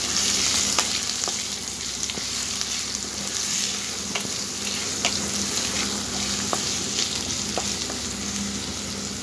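Crushed ginger and garlic paste sizzling steadily in hot oil in a pan, a continuous close frying hiss with occasional small pops and stirring sounds, no voices.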